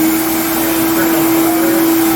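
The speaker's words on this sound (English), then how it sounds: "I'm going to turn on the vacuum" A dust collection vacuum runs on a Longmill CNC router, giving a steady loud whine with a strong constant tone and an even whoosh throughout.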